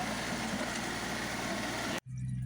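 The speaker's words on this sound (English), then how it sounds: "Driving on the tractor." A tractor engine runs steadily while driving, a loud, close, continuous rumble with a low drone. It cuts out briefly near the end, then resumes. No one speaks.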